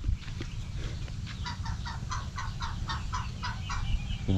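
Farm ducks let out near water on a farm quack in a rapid, repeated series of calls, fairly close and steady above a low rumbling background.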